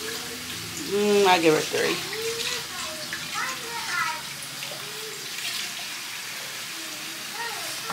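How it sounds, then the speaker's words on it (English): Tap water runs steadily into a kitchen sink as strawberries are washed, a soft constant splash beneath someone talking and a voice. "I gotta wash these strawberries."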